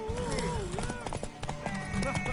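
A horse's hooves clip-clop in quick, uneven strikes in The Witcher 3 game, mixed with a whinny-like tone, background music and game voices talking over it.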